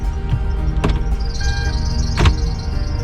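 A used Kia Ray idles with a loud, steady engine drone and a whining accessory belt, along with a high squeal and a couple of sharp clicks, heard close up.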